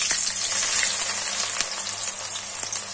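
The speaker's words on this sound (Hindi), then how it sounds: "ऑयल मैंने कढ़ाई में डाल के रखा हुआ है, गर्म हो गया है। एक मैंने बड़े साइज का प्याज लिया था," A large onion fries in hot oil in a kadai, giving a steady, close crackling sizzle with scattered pops and no voices.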